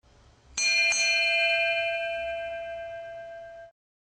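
A single strike of the ship's bell aboard HMS Victory, a preserved historic warship, rings out loud and close, then hangs in a long, slowly fading metallic tone with no voices.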